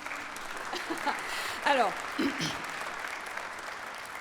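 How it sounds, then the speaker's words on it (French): Applause from a conference audience at UNESCO rustles steadily in the background while someone speaks briefly over it in French. "Merci de lui faire un tonnerre d'applaudissements."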